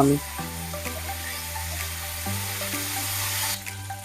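Onion, ginger-garlic paste, green chilli paste and chopped tomato sautéing in a pan for butter chicken, a steady close sizzle with light stirring under background music, no talking.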